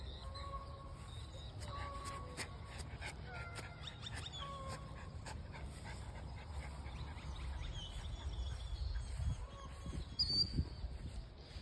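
Dogs at a public park beside a lake, their brief yelps and whimpers coming and going faintly over a steady outdoor background, with scattered quacking and bird calls mixed in.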